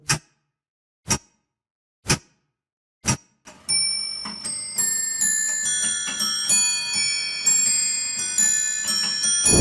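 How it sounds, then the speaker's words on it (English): An antique 1781 Russian clock by the master Katkin, with an early second hand, gives four sharp, evenly spaced ticks about a second apart, then breaks into a rapid series of ringing, chiming bell strikes that pile up loudly. "This clock was made in 1781 by the self-taught Russian master Katkin, and it's one of the first clocks with a second hand."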